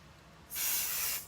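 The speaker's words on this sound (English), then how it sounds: "Next, we're going to use some basting spray." A short burst of basting spray from an aerosol can, one close hissing spray lasting under a second against quiet room tone.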